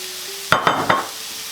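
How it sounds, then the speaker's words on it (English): Diced onion goes into a hot skillet of turkey drippings, giving three quick, close hissing bursts over a faint background, with no talking. "now I'm going to add in my diced onion, and I'm just going to cook these right in the drippings that I have here in my skillet."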